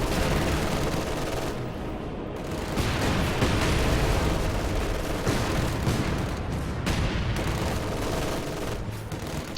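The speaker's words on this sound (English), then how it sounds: "Light artillery falling." Light artillery shelling in a WWII-style strategy video game, a dense, continuous barrage of booming blasts and crackling fire that stays loud and steady throughout with no talk over it.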